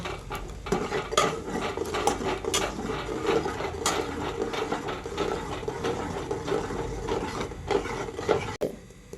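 Semolina is stirred into a pot for Ramadan tharikanji with quick, rhythmic scraping and clicking strokes close by. The strokes keep a busy, uneven pace, and no one speaks.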